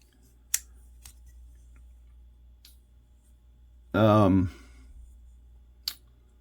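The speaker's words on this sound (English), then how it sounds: "And even if you just pull it open, listen to it, see if you can hear it. It clicks in there pretty good." A Dispatch flipper knife with carbon-fiber-look G10 handle is snapped open, giving sharp isolated clicks as the blade locks, close and crisp against a quiet room, with a brief burst of speech in the middle.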